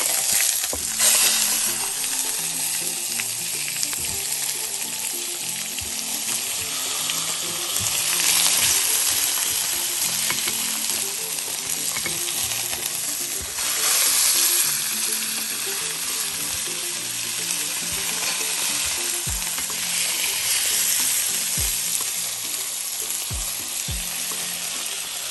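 Spicy salmon fillet sizzles steadily in a hot frying pan after being flipped, a constant close crackle of oil with occasional soft knocks.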